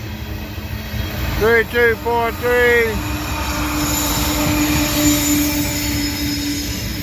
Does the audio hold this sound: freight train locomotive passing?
yes